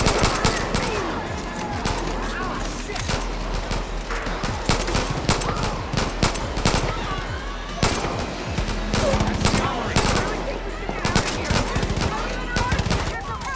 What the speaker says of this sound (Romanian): Zboară gloanțele.